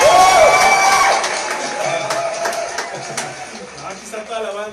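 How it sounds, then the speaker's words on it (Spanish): Studio audience applauding and cheering on a show, a loud crowd roar with whoops and shouts over rapid clapping, strongest at the start and easing slightly as it continues. "Un aplauso, por favor, para él, muchachos."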